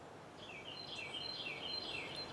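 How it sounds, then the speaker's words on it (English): Birds singing outdoors on a summer evening in Pennsylvania, a faint distant series of high chirps and warbling phrases over quiet background ambience. "I only hear birds."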